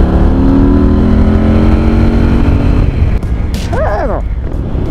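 Harley-Davidson motorcycle engine running loud and close with a heavy low rumble, wind noise over it, and a brief voice near the end.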